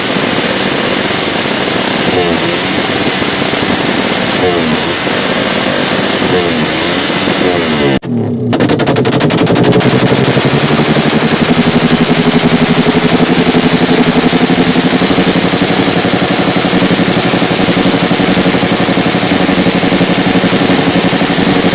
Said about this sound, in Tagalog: Kasi magla-loudest pipe na tapos loudest backfire.